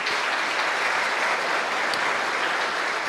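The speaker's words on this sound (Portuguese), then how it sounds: "Uma salva de palmas." Dense, even applause from a lecture audience at a Bitcoin talk event fills three seconds as a steady wash of many hands clapping, with no voices on top.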